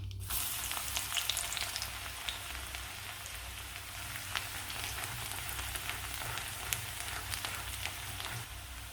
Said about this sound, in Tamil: பொடியாக நறுக்கி வச்சா பூண்டு சேர்த்து வதக்கிக்கலாம்